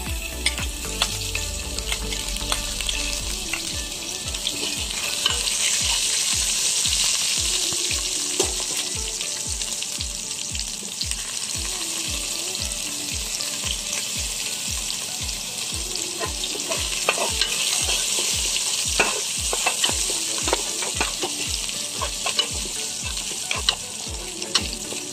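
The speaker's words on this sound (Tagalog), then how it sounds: "Ngayon naman, lagay natin ang sibuyas." Onions sizzle steadily in hot oil in a pan with sautéed garlic for sinampalukang bangus, while a utensil scrapes and stirs in a fast, regular rhythm throughout, loud and close with no talking.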